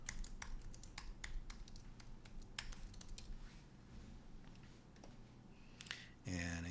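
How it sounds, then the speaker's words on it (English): A password being typed on a Mac keyboard, a run of quick, close key taps that slows and thins out before ending in a brief louder sound. "Type in your password."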